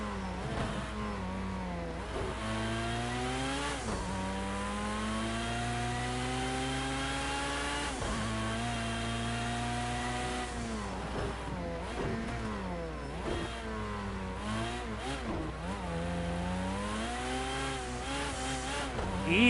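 A race car engine in the racing video game Project CARS 2 revs up and down repeatedly, its pitch climbing with each gear and dropping sharply at shifts, loud and continuous throughout with no talking.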